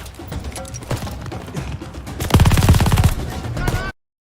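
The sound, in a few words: 88 mm Flak 36 anti-aircraft guns firing in Call of Duty: Vanguard video game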